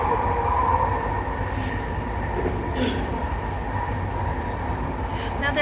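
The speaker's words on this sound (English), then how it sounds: "The sky train going in the opposite direction." A Vancouver-area SkyTrain on the Expo Line rushing past in the opposite direction, a steady loud rumble of wheels on elevated rail with a faint squeal, heard near and continuous throughout.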